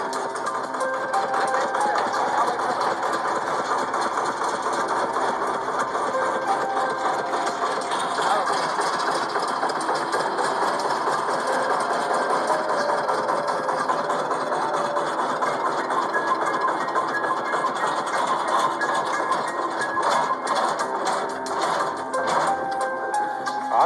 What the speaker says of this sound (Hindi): ले स्टार्ट ही हुआ तुम्हारा ट्रैक्टर।